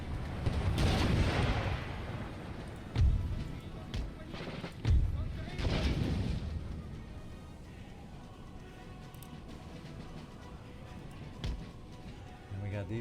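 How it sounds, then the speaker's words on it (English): Mortar and artillery fire in Empire Total War Darthmod, a battle strategy game, booms in several heavy blasts in the first half and then fades to softer battle noise, with a voice talking faintly at times. "And even though these mortars aren't at full strength, they're really pounding us."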